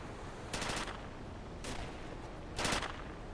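Gunfire crackles in the World War II shooter Darkest Hour: Europe '44-'45, with three sharp bursts of rapid shots spaced about a second apart over a steady background din.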